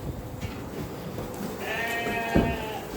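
Ewes being fattened for meat bleat at feeding time on a Turkish sheep farm. Bleats rise over a steady barn hubbub, with one louder call near the end.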